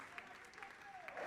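Audience applause for a gospel singer at a Congolese gospel competition semi-final, a brief, fairly faint patter of clapping from a crowd.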